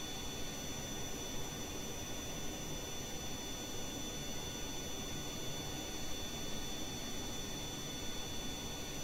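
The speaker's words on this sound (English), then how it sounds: "It's just this droning sound of the jet engine that kind of kills me" Steady droning jet engine from the video game Kerbal Space Program, a constant dense roar with a high whine running unbroken and alone throughout.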